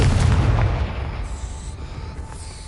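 A Confringo blast spell explodes in Hogwarts Legacy: a loud, heavy boom up front that decays into a fading rumble with faint magical shimmer afterward.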